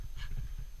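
Dogs pant and whimper softly on a backpacking trail in Congaree National Park, a brief close breathy sound with no talking.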